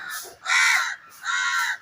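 Crows in a big tree in front of a house give two loud, harsh caws, each close by and lasting about half a second, with a short gap between them.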